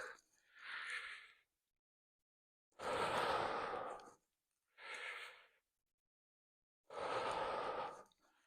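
Slow, deliberate breaths during a guided fitness breathing exercise, four audible airy inhales and exhales separated by silent pauses, close and fairly soft.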